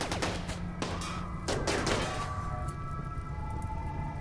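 Gunfire from a battle in the colony-building video game Rimworld, a dense, continuous clatter of shots with sharper bursts near the start and middle, sounding close and busy against a steady background.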